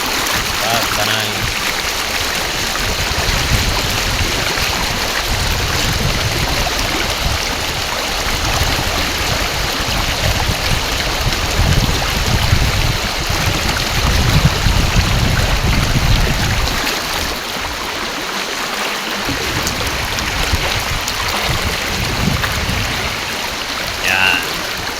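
Fresh, cool stream water in rural Lupon, Davao Oriental, flowing as a steady close rushing burble that continues throughout, with people talking intermittently over it.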